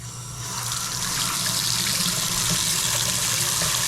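Water gushes strongly from a newly installed Moen kitchen faucet into a sink, a steady, close, even hiss that swells in the first half-second and then holds.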